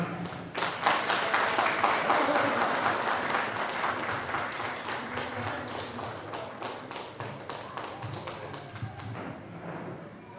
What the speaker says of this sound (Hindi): तालियों के साथ गड़गड़ाएं।